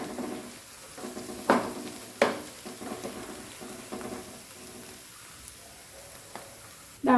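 Carrot halwa with ground cardamom being stirred in a pan, giving soft scraping and a faint low sizzle, with a few sharper clinks of the spoon against the pan.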